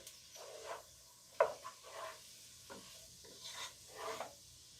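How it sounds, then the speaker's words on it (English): Noodles stirred in a pot of chicken noodle soup: faint, intermittent swishing and scraping strokes close by, with a soft low hum underneath. "So we're going to drop some of those noodles in there. Okay, let's give those a stir."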